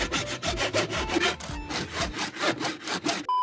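Harsh rhythmic scraping of a blade sawing through a skull in a film scene, loud back-and-forth strokes in steady succession, ending with a brief sharp tone.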